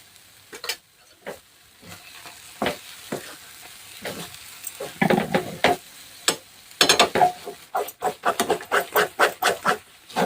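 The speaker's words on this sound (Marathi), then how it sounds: "छान असं ढवळत राहायचं मस्त जोपर्यंत आपली चटणी कडायला सोडत नाही" A spoon scrapes and stirs through peanut chutney frying in a pan, irregular strokes over a soft sizzle, growing quicker and louder toward the end.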